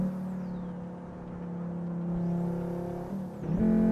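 A simulated Volvo S60R in the Assetto Corsa Evo racing game, its engine droning steadily at a fairly even pitch, then dipping briefly and rising again as the revs climb near the end.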